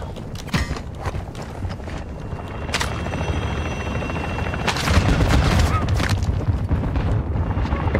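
Helicopter in Call of Duty Warzone DMZ: a continuous rotor drone grows louder amid bursts of gunfire and booms, a dense busy battlefield mix.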